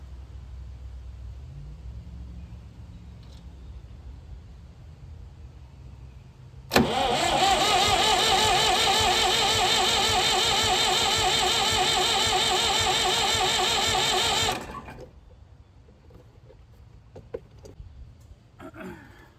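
An old Massey Ferguson 2200 tractor forklift engine, abandoned for 23 years, roars at a loud, steady high speed with its throttle stuck open for about eight seconds, then cuts back to a quiet background.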